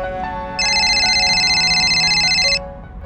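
A phone ringtone plays for about two seconds, a bright, rapidly pulsing electronic trill over soft background music, loud and close.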